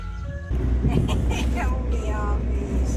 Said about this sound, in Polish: A tutaj samochód z lodami